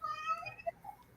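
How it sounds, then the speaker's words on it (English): Loud, short meow of a house cat, a couple of tonal calls in just over a second, heard close by. "That was my cat. That's pretty loud."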